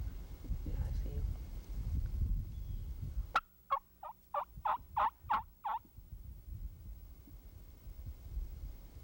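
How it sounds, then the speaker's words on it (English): A wild turkey gobbles in a rapid burst of about seven rattling notes, answering a soft call from hunters in spring woods, with a sharp click just before and low outdoor rumble throughout. "Listen to Steve soft call this bird right to their position."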